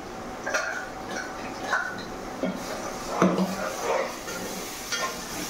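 A paste of ground cashew, almond, coconut, ginger and garlic is stirred into frying onions in a pan for masala vada curry, with soft sizzling under scattered spoon scrapes and knocks against the pot.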